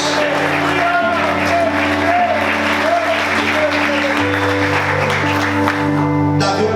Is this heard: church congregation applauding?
yes